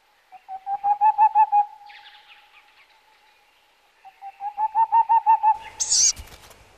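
An owl in a forest at dusk gives two series of rapid, rhythmic hoots, each lasting over a second and separated by a quiet gap, with a brief higher call near the end, clear and fairly close.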